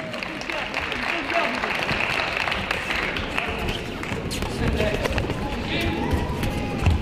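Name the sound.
audience applause at a boxing gala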